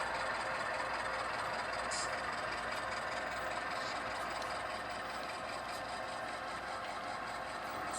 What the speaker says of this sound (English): don't those engines sound great? Those are ESU decoders that he's installed in them.